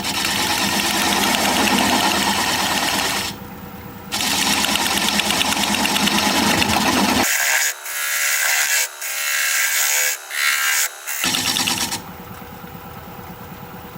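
Wood being turned on a lathe while a tenon is cut, a loud steady motor whine with gritty cutting noise that breaks off into intermittent choppy bursts, then resumes, with no talking.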